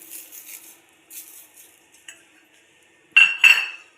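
A spoon scrapes and clinks against a metal bowl while spice mix is stirred into puffed rice chivda, soft scraping strokes followed by two louder clatters near the end.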